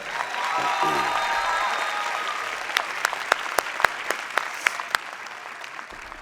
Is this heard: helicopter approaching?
no